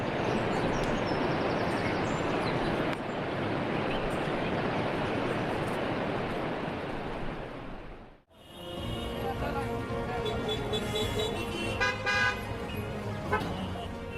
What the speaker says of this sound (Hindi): और चारों तरफ कल कल करते ये झरने।